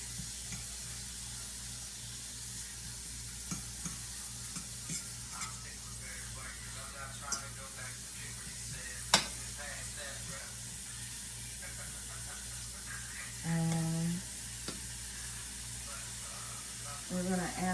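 Mushrooms sweat and sizzle in a pan, a steady soft hiss with scattered small pops and a brief louder burst of frying near the end.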